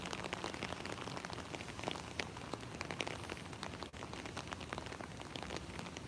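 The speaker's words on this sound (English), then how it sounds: "it's raining really hard" Heavy rain pours down in New York City during a thunderstorm, a dense, steady hiss of drops pattering on surfaces, continuous and fairly distant, with no voices.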